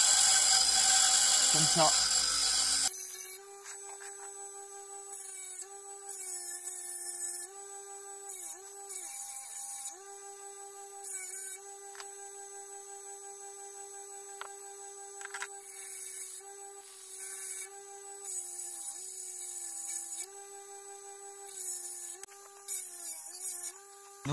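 A metal bicycle derailleur hanger is shaped on a grinder: a steady, whining motor drone is broken by repeated rasping bursts as the metal is pressed against the wheel, with a brief spoken word in French.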